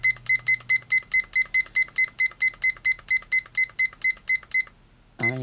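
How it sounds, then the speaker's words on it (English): A kitchen timer being set gives a rapid run of about twenty identical high electronic beeps in a steady rhythm, loud and close, then stops and a brief sound follows. "set the timer"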